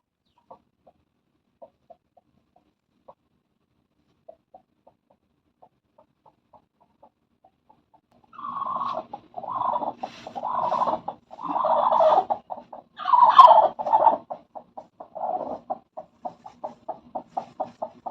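Hens in a farm coop cluck loudly in repeated bursts and squawks after a long near-silent stretch of faint clicks, building to a noisy flurry before trailing off into short clucks.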